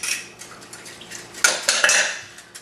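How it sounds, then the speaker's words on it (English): Metal whisk clattering against a bowl as garlic and other seasonings are mixed into a Korean bulgogi marinade sauce, a quick run of scraping clinks and knocks, louder in the middle, close by with no talk. "Just keep whisking it in as you go"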